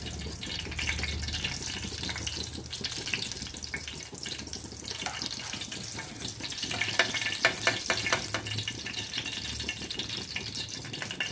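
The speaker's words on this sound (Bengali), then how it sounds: "এইভাবে মাশরুমগুলোকে এইভাবে ভেজে নিলাম" Mushrooms frying in a pan, a steady wet crackle and hiss with occasional stirring rattles, close and continuous.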